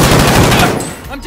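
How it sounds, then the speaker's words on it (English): Rapid automatic gunfire from Call of Duty: Modern Warfare, a loud close burst of shots that fades out after under a second. "I'm taking fire!"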